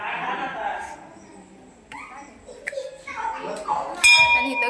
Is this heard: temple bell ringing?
yes